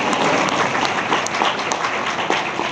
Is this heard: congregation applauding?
yes